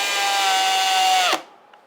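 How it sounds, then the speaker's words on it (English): A power drill bores a 6mm hole through the taped hood of a Honda CRX, a loud, high steady whine that holds for over a second before cutting off abruptly into quiet. "6mm holes drilled"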